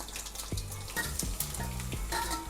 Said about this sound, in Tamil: இந்த மாதிரி மசாலாவை இந்த மாதிரி எண்ணெயில் வதக்கிட்டு போட்டால்